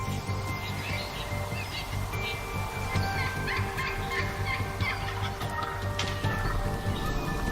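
Wild turkeys gobble and cluck over a dense, continuous wash of outdoor noise, with several overlapping calls from a flock at middle distance.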